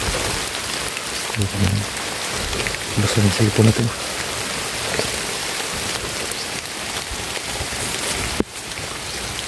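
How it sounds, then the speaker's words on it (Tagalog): Heavy rain pours steadily outdoors in a broad, loud wash of drumming drops, close and continuous, with someone speaking briefly over it and a sharp knock near the end. "Lakas ng ulan mga idol."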